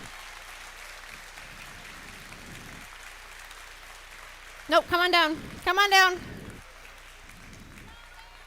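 An audience at a robotics competition awards ceremony keeps up a steady, distant patter of applause, while a voice calls out loudly over it partway through.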